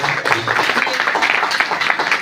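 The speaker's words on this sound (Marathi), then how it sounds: "आपल्या सर्वांच्या वतीने का जोरदार टाळ्या झाल्या पाहिजेत" An audience at a newspaper launch ceremony in an IMA hall claps steadily for a couple of seconds, a dense continuous patter filling the room.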